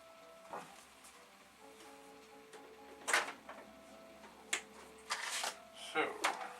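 A Commodore 1581 3.5-inch floppy disk drive powering on gives off faint mechanical clicks, short whirs and a few sharper clunks spread over several seconds, heard close and quietly against a low background hum.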